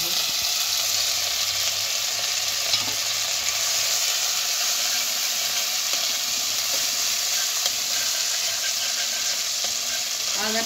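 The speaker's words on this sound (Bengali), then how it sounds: "পর যখন সর্ষের তেলটা গরম হয়ে যাবে, আমি কি করব, এই তেলের মধ্যে আমি আগে আদাটা দিয়ে দেব।" Ginger frying in hot mustard oil in a pan, a loud, steady, close crackling sizzle with hissing spatter that holds evenly throughout without pause.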